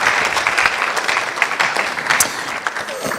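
Crowd clapping at the NSMQ 2025 National Championship launch, loud and continuous with bright individual hand claps, close and sustained across the whole stretch.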